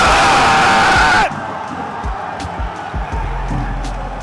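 A crowd roars loudly for about a second, then drops abruptly to a lower murmur with scattered shouts.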